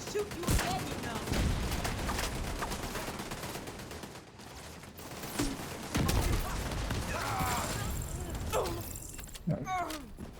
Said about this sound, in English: Just gonna shoot you again, you know.